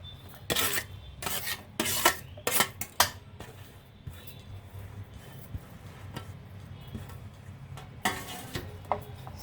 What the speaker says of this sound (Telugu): ఇవన్నీ ఇప్పుడు కలుపుదామండి, సలాడ్ కలుపుదాం అండి